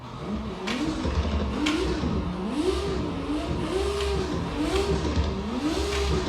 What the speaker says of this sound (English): And the anti-lag in this car is hilarious.